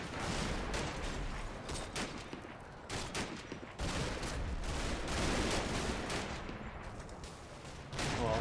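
Dense, sustained volleys of rifle and machine-gun fire crackle in a video game battle, aimed at soldiers holding the top of a church tower; the shooting rattles on almost continuously and loudly with only brief pauses.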